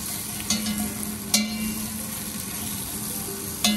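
Garlic cloves and onions caramelize in a pot with a steady, moderately loud sizzle. A few sharp clinks of a utensil against the pot break in at intervals.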